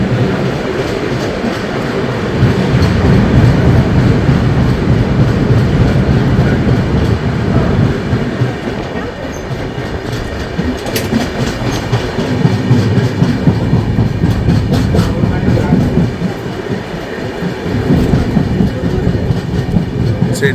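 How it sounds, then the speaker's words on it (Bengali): Dhauli Express, the 12821 Howrah–Puri service, pulling out of platform 3 at Cuttack, heard from aboard an AC chair car: a loud, continuous rolling rumble with rhythmic clickety-clack over the rails, swelling and easing over twenty seconds. "3 নম্বর প্ল্যাটফর্ম থেকে ট্রেন ছাড়লো।"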